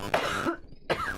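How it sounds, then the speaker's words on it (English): Two harsh coughs close to the microphone, separated by a brief quiet gap. "Sorry for coughing in the mic."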